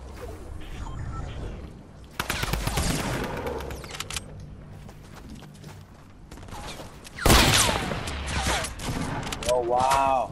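Gunfire rattles in a Fortnite Battle Royale duo match, bursts of automatic shots and louder nearby blasts breaking out repeatedly over game effects while players talk throughout.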